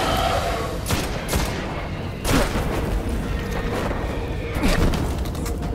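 Gunfire aimed at the player in the video game Destiny: Rise of Iron, with dense booming shots and sharp bursts over a steady roar of battle noise, including stronger hits near 2.3 and 4.7 seconds.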